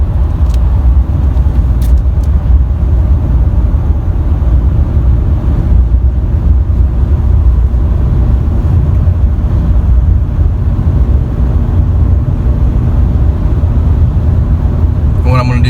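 A 2019 RAM 2500 Heavy Duty Tradesman pickup with an 8-speed transmission drives along, its steady low engine and road rumble continuous throughout, with someone talking over it.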